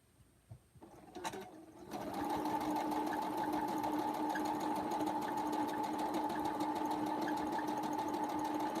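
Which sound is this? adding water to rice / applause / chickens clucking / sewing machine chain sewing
sewing machine chain sewing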